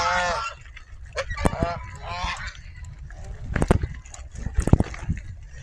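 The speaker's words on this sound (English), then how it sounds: "You can see there are lots of geese, like that one." Several geese honk in loud bursts along a river, some close and some farther off, with outdoor background noise between the calls.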